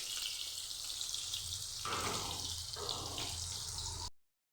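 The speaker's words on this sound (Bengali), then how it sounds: "দেখো পটল ভাজিটা বসিয়ে দিলাম।" Pointed gourd (potol) frying in oil in a home kitchen gives a steady, moderately loud sizzling hiss throughout, with a few brief shifts in texture, then cuts off.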